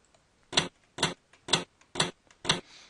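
Five evenly spaced, sharp slappy hits from a shoe sound-effect sample, each a short dry smack about half a second apart, close and clear over near silence.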